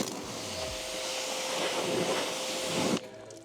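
Pressure washer with a 45-degree nozzle sprays car paint from about a foot away, a loud, steady broadband hiss of water that holds for about three seconds and then cuts off abruptly.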